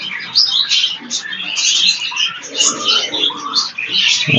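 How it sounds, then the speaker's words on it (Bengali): Pigeons in a loft give soft, busy chirps and calls in continuous overlapping bursts close by, with faint low cooing underneath. "দেখেন আমার একটা কবুতর"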